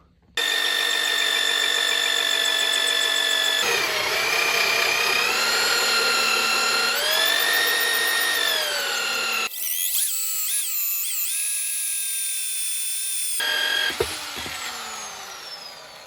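A power drill, run from a portable power station, whines steadily as it bores a 2-inch hole through hardwood, the pitch shifting as it loads and eases, ending with a sharp break-through and spin-down.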